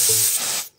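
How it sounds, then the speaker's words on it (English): Loud, steady aerosol-style spray hiss representing dark matter being sprayed into a simulated universe, lasting most of the moment before cutting off, followed by a brief thump. "So let's just spray that."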